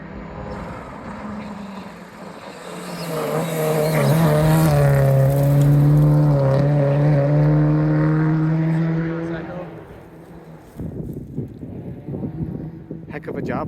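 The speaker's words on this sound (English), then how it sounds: "meticulously prepared Subaru Impreza WRX STI WRB wide body" A Subaru Impreza WRX STI wide-body rally car roars past on an Ontario rally stage, its engine note swelling loud up close, sweeping in pitch as it passes, then fading away as talk resumes at the end.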